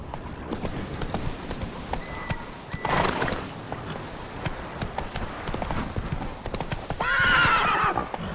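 A horse gallops in The Witcher 3, its rapid hoofbeats clip-clopping steadily and close, with a loud whinny cutting in twice over the running.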